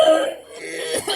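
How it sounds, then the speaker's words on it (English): A person coughing in a classroom setting, a short, close throaty cough and clearing burst, heard alone without talk. "so I just had to keep coughing the whole time."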